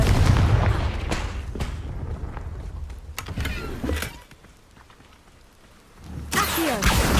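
A Confringo fire spell bursting in Hogwarts Legacy, heard as a run of sharp, loud booms and blasts over rumbling noise, a brief quieter lull, then a heavy eruption near the end.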